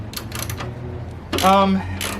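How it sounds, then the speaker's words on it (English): Ratchet wrench turning out 10mm bolts that hold down the airbox on a Hyundai Veloster N, short bursts of rapid clicking ratchet sound close up, separated by brief pauses. "we're just going to remove these 10mm bolts holding down the airbox"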